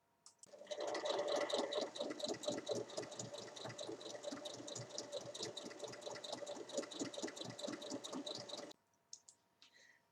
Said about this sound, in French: Maintenant, je vais venir faire une surpiqûre de chaque côté